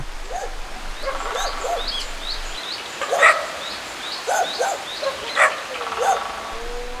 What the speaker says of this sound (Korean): 제작진의 접근에 놀라 큰 소리로 짖기 시작합니다.